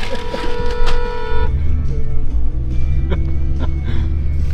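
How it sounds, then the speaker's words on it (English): A car horn gives one loud, sustained honk of about a second and a half, then gives way to a low vehicle rumble. "Somebody honk, I honk, say hi back"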